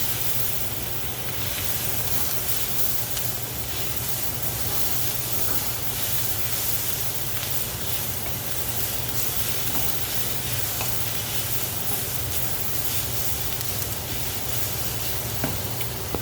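Garlic and onions sizzle in a pan with a steady, close hiss and crackle, continuous frying noise with occasional faint stirring clicks and no talking.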